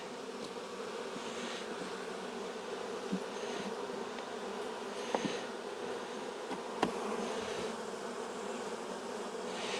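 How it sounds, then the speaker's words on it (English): Unsettled honeybees at a hive during a late-season inspection, a dense continuous buzzing hum that stays loud and close throughout, with a few faint knocks and no talking. "They're very unsettled. The bees are not calm. They're buzzing."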